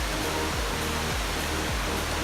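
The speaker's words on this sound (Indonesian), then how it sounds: "Masih air terjun anak." Small waterfall on a trekking trail, a continuous wash of falling water that sounds close and steady, with a faint low thumping repeating underneath and no talking.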